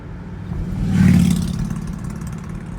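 A car engine hums while driving across a causeway near Cedar Point in Ohio, with a low steady drone that swells to a peak and then eases off.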